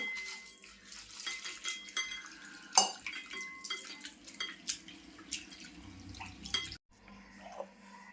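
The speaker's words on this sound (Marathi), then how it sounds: "त्याचं स्वच्छ असे मी ना पाणी ओतून धुवून घेते" Water splashing and dripping in a bowl as flattened rice (poha) is rinsed, with light clinks of a dish and occasional louder sloshes, close by.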